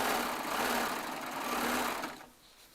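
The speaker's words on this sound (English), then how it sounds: "we got to keep on serging on" A Baby Lock Triumph serger runs at speed in a rapid, steady mechanical whir that stops abruptly near the end, close up with no voices.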